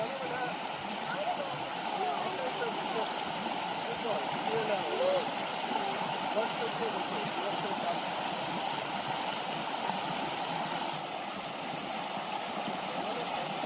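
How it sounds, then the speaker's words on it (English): Steady rushing water from a creek on the Appalachian Trail fills the scene, a constant loud burbling flow with no pauses. "All right, another creek crossing."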